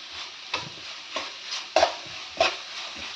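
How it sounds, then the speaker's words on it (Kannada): Food frying in a pan in a home kitchen, a steady close sizzle broken by a few soft stirring scrapes and two sharper clinks, with no talking. "ಫ್ರೈ ಆಗ್ತಾ ಇದೆ"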